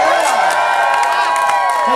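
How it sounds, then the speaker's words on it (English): A cruise-ship audience at JoCo Cruise 2020 cheers and whoops loudly for Jim Boggia, a dense wash of excited voices with some clapping mixed in, filling the whole short stretch. "Hey, Jim, they're clapping about you again."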